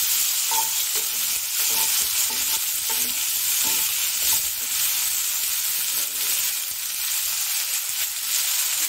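Mango pieces sizzle steadily in a hot pan, a continuous frying hiss with soft scraping as they are stirred now and then.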